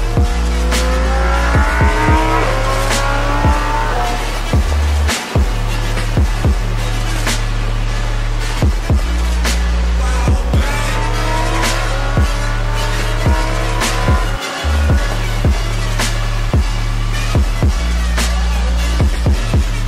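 A Lamborghini Performante driving hard, its engine loud and close with repeated rising revs through the gears and sharp shift breaks, continuous for the whole stretch.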